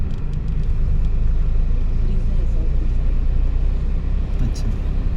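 Car engine revved by a learner driver, a loud, steady low rumble that holds for several seconds from inside the car, with an instructor talking over it.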